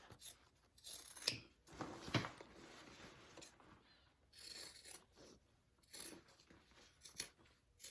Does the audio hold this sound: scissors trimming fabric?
yes